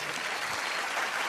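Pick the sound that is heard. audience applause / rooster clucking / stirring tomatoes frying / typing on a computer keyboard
audience applause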